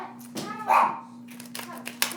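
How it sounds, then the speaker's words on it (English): A household dog gives a single short bark amid low indoor background noise, with faint voices and small handling sounds around it. "I'm trying to get the dogs quieted down."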